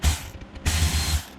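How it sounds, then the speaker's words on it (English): A ratchet clicks rapidly while removing bolts from the rear oil pan of a 2019 Dodge Challenger Hellcat, two close bursts of loud mechanical clicking separated by a short pause, with no talking. "first step is we're going to come down here and remove these bolts."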